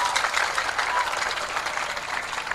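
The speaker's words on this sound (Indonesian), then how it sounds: "Tepuk tangan untuk banser." Audience at an NU (Nahdlatul Ulama) religious lecture in East Java claps in a steady, dense round of applause honoring Banser, sustained and fairly loud throughout with no talk over it.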